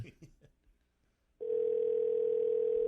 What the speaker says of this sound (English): let's try to make a phone call, see if it works